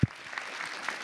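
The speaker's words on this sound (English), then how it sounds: "We could clap for that" Scattered clapping rises in a room at a city council meeting, a faint, brief patter after a soft thump at the start.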